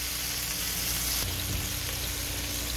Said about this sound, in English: I'm going to go ahead and finish searing these burgers off